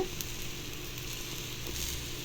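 Wheat adai batter sizzles steadily in oil on a hot pan, a constant close hiss with faint crackles and no voices.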